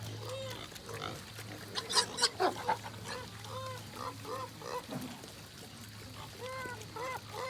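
Piglets squeal and grunt in a pen at feeding time on a farm, with repeated excited calls rising and falling throughout over a steady low hum, fairly close and moderately loud.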